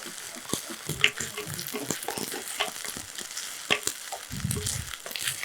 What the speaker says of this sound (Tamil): இதை வந்து நல்லா அப்படியே வதக்கி எடுத்துக்கலாம்